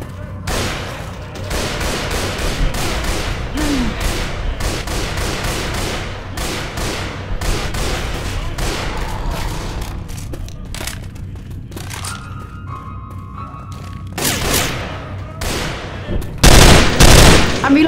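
Sustained gunfire in the zombie shooter Left 4 Dead 2 during The Parish campaign, dense bursts and fusillades running throughout, with a heavy explosive blast near the end.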